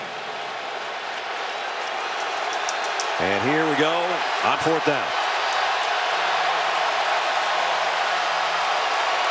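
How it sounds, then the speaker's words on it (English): Loud, steady roar of a stadium crowd at a 2013 Alabama vs Ole Miss college football game, the noise swelling on a fourth-down play as the Ole Miss offense sits near the end zone, with a commentator talking over it. "The crowd's been fired up ever since that Eddie Jackson hit, and they're making it rough right now down in that end zone for the Ole Miss offense"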